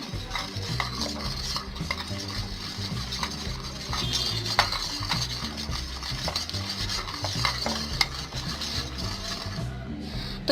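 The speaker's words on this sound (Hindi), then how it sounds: "तो अब इसको अब आप अच्छे से मिक्स कर दें।" A utensil steadily stirs and scrapes a homemade lipstick mixture in a small container, a continuous close clinking and swishing with occasional sharper taps.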